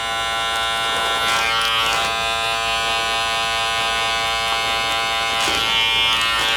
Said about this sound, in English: the clipper is kind of off right now, off this head. And just free flow cutting all the way through.